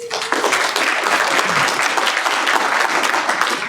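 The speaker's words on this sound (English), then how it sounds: "So please give yourselves a round of applause." Sustained audience applause fills the room at a recap gathering, dense steady clapping from many hands throughout, loud and close, with a faint voice briefly audible under it.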